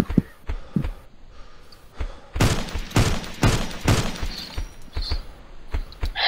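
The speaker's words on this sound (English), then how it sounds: "Heavy machine gun" Heavy machine gun fire in the video game Begone, with a few scattered shots and then a fast run of five or six loud, punchy rounds, followed by quieter sporadic gunfire.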